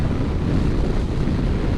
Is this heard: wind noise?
yes